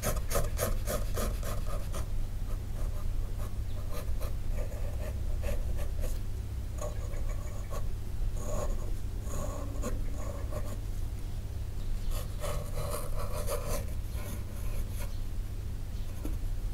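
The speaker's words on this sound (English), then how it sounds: "So everything that I don't need at the moment, I can get rid of it with an eraser." An eraser rubs across paper to lift pencil lines from a drawing before watercolor painting, giving repeated close, soft scrubbing strokes in bursts with short pauses, no voices.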